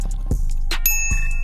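A small bicycle-style bell from the toolkit of a Crew Mini-X 1000W electric mini bike rings with a few bright, clear dings, close and loud against a quiet room.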